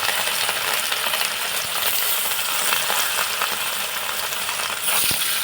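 Fish frying in oil in a home kitchen pan gives a loud continuous crackling sizzle, steady throughout with a few sharp pops, heard up close without speech.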